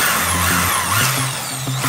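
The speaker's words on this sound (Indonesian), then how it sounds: "Kita bisa gunakan bor ya untuk melubangi." A power drill whirs steadily at close range, its motor pitch shifting slightly as it bores holes for mounting a sliding rail.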